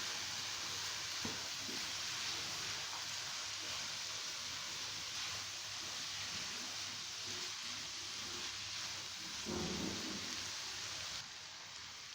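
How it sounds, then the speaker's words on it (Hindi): Dal mash lentils frying in a pan for a Pakistani dhaba-style dish, a soft, continuous sizzle with occasional stirring scrapes, steady and close, no talking. "दाल डाल के अब हम इसको फ्राई करेंगे"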